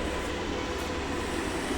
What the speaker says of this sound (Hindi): और ये प्लेटफॉर्म नंबर 1 पर एक ये ट्रेन आई है